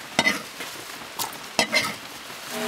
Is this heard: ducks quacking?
no